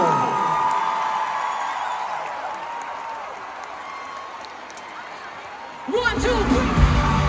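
Large concert crowd at a world tour stadium show applauding and cheering, a wash of distant clapping and whoops that swells loudly near the end with shouting and singing voices.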